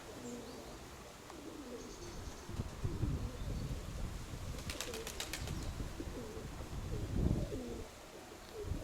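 Soft, low pigeon coos repeat through the recording over a rustly outdoor background, with a brief fluttering burst in the middle.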